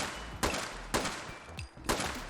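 SKS rifle mod firing in Fallout 4, four loud single shots at a steady spacing of roughly half a second, each with a short decaying tail.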